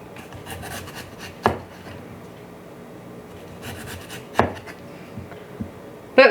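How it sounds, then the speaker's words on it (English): A knife cutting tough outer skin from broccoli stems on a board, with a few sharp chops among soft scraping and rubbing, close and fairly quiet, no talking. "with the broccoli stems, I just cut off the kind of the tough outer skin"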